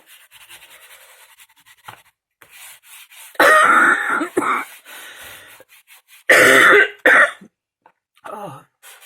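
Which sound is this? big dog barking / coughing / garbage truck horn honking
coughing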